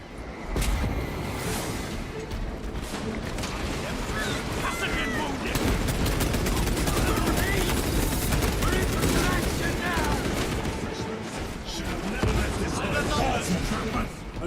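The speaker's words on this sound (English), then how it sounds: "Small arms fire. It sounds close." Dense small arms fire from Warhammer 40K Space Marine 2 rattles on continuously in bursts and volleys, close and loud, with mechanical clanks, booms and voices talking over the combat.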